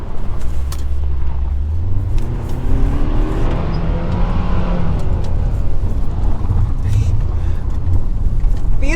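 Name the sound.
2022 Hyundai Tucson driving on a rally stage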